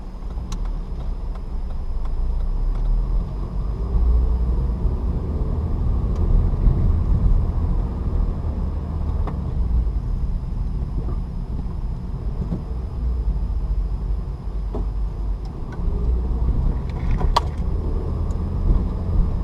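A manual-transmission car rolls along in first gear with a low, steady engine rumble that swells gently and holds throughout, no talking.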